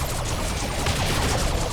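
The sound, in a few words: Shuriken cannon firing in Dawn of War 2 video game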